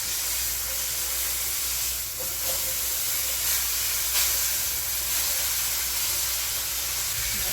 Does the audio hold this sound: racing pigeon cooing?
no